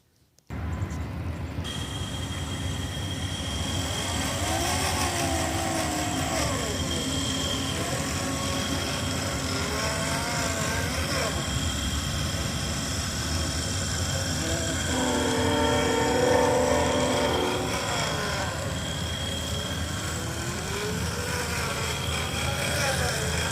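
An RC4WD Trailfinder 2 scale truck drives along with a continuous high electric motor whine that rises and falls with speed, steady for over twenty seconds, while a voice talks faintly at times.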